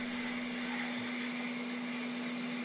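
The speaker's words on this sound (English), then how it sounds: "Here I'm reaming out some 3/8 schedule 40 pipe" Power tool reaming out 3/8 schedule 40 steel pipe for a firewood processor hinge, a steady high whine with a constant hum and no breaks.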